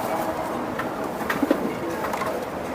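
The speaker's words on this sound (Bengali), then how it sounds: "এই যে দেন খুবই সুন্দর কবুতর" Low, soft Budapest pigeon cooing close by, a couple of throaty coos in the middle over a steady background hum.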